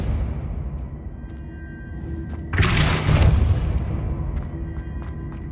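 A Depulso force spell blast in Hogwarts Legacy, a sudden loud burst of whooshing boom that swells and fades over about a second against a steady game ambience.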